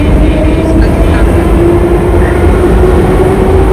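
A loud, steady rumble of a metro train in a Tashkent metro station, with a continuous mechanical drone and faint high whine, no pauses.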